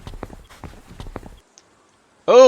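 Horses in the strategy game At The Gates, a few crisp hoof clip-clops spaced unevenly over a second, then a pause and a loud, bright whinny, with no talking.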